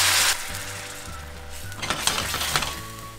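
Pasta cooking water hits frying bacon in a pan with a sharp burst of sizzling, then crackling and spitting continues with light clinks of a utensil against the pan.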